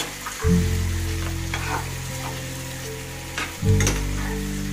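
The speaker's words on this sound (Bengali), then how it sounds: "এবার দেখুন রান্নার শেষে আমি একটু সামান্য ঘি ঢেলে দিলাম" Ghee poured into a hot pan of Boal catfish curry sets off a loud burst of sizzling that settles into a steady fry hiss, then a second strong surge near the end.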